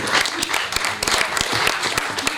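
Crowd clapping at a reception honouring local athletes in Saint-Sever, a brief burst of dense, even applause from a hall full of people.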